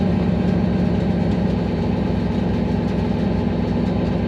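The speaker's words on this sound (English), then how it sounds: "Hopefully it'll idle its way back into the shop here." A car engine with a blown intercooler idles steadily up close, a constant low rumble with no revving and no talking.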